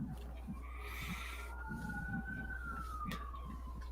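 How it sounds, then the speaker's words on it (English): A siren wails far off, its tone slowly rising and falling, over a low steady hum and soft background knocks. "You hear sirens back."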